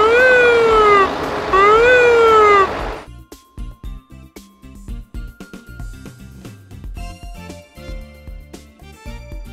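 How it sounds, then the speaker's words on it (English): Toy ambulance siren wailing loudly in a rising and falling sweep for about three seconds, then cut off, followed by quieter clicking and rattling handling noises. "Ambulance."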